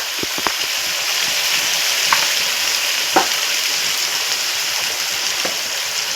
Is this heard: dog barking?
no